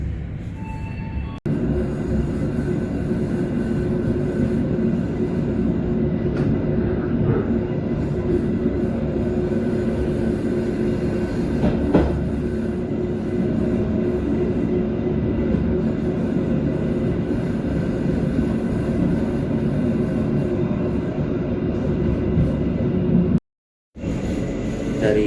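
Argo Wilis passenger train running after departing Kroya station, heard from inside the carriage as a steady low rumble of wheels on rails, with faint clicks and a brief dropout near the end.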